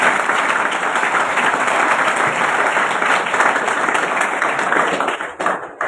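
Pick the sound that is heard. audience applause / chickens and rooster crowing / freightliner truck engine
audience applause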